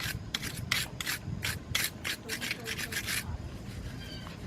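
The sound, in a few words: scraping rust off Jeep brake pads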